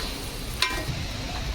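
Onions and two large chopped tomatoes fry in oil as they are stirred together, a steady close sizzle with one brief scrape of the spoon.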